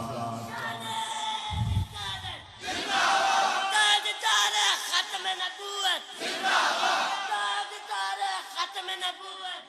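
Crowd at an evening gathering of hamd and naat poetry in Chakwal chants a religious slogan in loud unison, bursts of massed voices rising and falling over about ten seconds after a brief low thump near the start.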